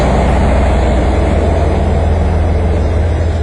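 A locomotive on the Lusitania train between Spain and Portugal sits with its heavy engine rumbling, a loud, steady low-frequency drone that holds unchanged throughout.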